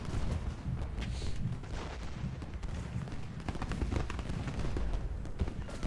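Dense battlefield din of Civil War artillery and musket fire in Ultimate General: Gettysburg, continuous rumbling booms and crackling shots layered together at steady loudness, with no clear single blast standing out.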